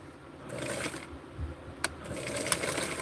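A sewing machine sews a small doll dress in short bursts, a soft whirring run that starts, pauses briefly and resumes, with a couple of sharp clicks.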